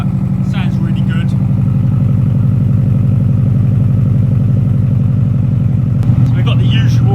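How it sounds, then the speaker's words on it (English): A Subaru boxer engine breathing through a Blitz Spec R exhaust idles with a loud, steady, lumpy burble, close up and continuous, with brief voices over it near the start and end. "So we've got the usual Subaru burble boxer noise. It's got a Spec R exhaust system on it"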